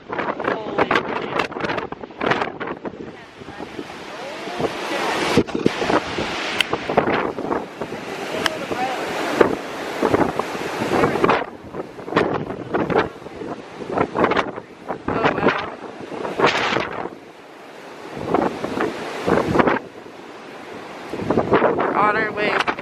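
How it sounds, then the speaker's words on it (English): Strong wind on the Mackinac Island shore pounds the microphone in repeated rushing gusts with short lulls. It stays close and loud throughout, with faint water and wave noise behind it. "It's very, very windy here."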